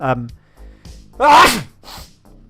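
A single sharp sneeze bursts out between stretches of speech, loud and close, with talking before and after it.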